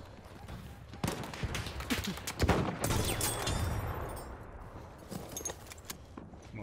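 Enemy machine gun fire in the Brokenfield battlefield game, sharp rapid bursts of shots ringing out loudly over a dense rumble of combat, fading toward the end.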